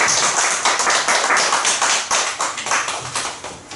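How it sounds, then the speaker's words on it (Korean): A congregation in a church claps together in a full, crisp round of applause after a prayer, close and steady, fading slightly toward the end. "우리 하나님께 영광의 박수 한번 드리겠습니다."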